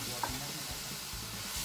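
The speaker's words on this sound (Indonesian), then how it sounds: "Cuman saya takut kalau digoreng itu suka kecipratan ya." Red snapper fish frying in a pan gives a quiet, steady sizzle with occasional soft stirring or spattering pops, no voices heard.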